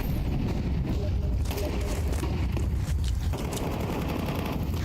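Heavy sustained gunfire from Counter-Strike 2, loud and nearly continuous with rapid overlapping shots over a dense, rumbling game mix.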